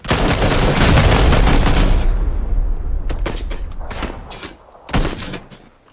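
Gunfire and booming impacts in the PUBG battle royale game, including SKS rifle shots, a loud dense barrage at first that fades, followed by a few scattered sharp shots and a thump.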